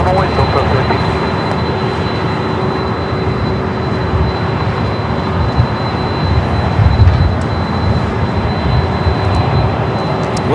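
Heavy Boeing 767 jet roar at LAX, a steady loud broadband rumble with a constant whine, holding for the full length without easing off.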